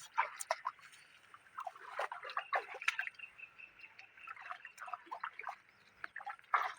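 Thin, irregular trickle and drip of borewell water running in a farm field, fairly faint, with small splashes scattered throughout and no voices.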